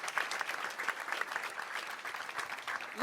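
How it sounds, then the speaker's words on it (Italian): Moderate audience applause at an Italian award ceremony, fairly quiet and somewhat distant, with steady clapping that swells briefly at the very end. "Quindi un applauso grande per Serena."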